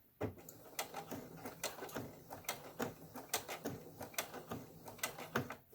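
A sewing machine stitching folded layers of fabric for a face mask, with a series of sharp mechanical clacks and short bursts in an uneven rhythm, close and moderately quiet.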